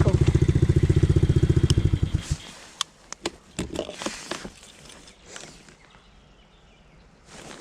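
A quad bike (ATV) idles with a loud, rapid pulsing chug in a spring forest, then cuts off after about two seconds, leaving scattered footsteps, rustling and knocks.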